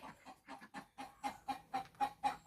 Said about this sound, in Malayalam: കോഴികളൊക്കെ നല്ല സ്റ്റാൻഡിൻ്റെ അകത്ത് കയറിയിരിക്കുക.